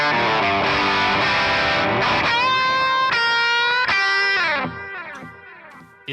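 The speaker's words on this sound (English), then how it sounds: "You notice that I turned on a delay, a tape echo delay from soft tube, also on the solo." Electric guitar solo with modest gain run through a tape echo delay set with heavy feedback, sustained bent notes and quick phrases repeating and trailing off into fading echoes.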